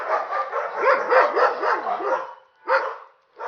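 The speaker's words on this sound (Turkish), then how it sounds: "Bak şimdi havlamaları kesildi hemen." Several dogs bark in a steady, overlapping run close by for about two seconds, then after a pause a couple of short separate barks follow, with no one talking.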